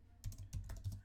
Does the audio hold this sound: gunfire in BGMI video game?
no